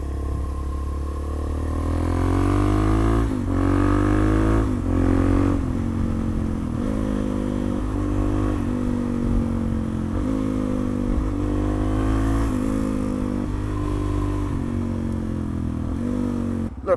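A Suzuki DRZ motorcycle is ridden, its engine droning loudly and close throughout, rising and falling in pitch as it revs through gears, with some clatter and road noise.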